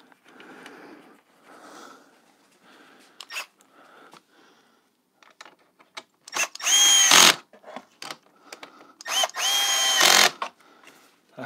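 A power drill drives screws into the side panel of a BMW R1250GSA motorcycle during accessory installation. Two loud, close whirring runs of about a second each stand out over quieter handling clicks and rustling.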